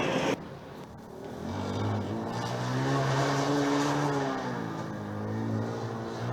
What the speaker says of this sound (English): I'm trying to listen to the car of Munich